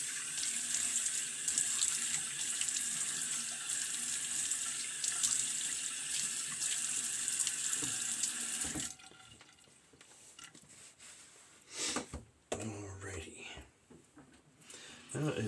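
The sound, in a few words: water running from a tap while wetting face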